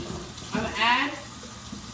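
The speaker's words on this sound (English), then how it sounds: "I'm gonna rinse my hands off again because I touch all that meat." Tap water runs over hands at a kitchen sink, a brief splashing rush that swells in the middle and fades, with a voice speaking briefly.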